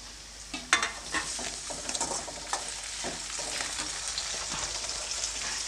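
Onion and tomato frying in a pan, a steady close sizzle with scattered stirring scrapes and small spatters throughout, no voices.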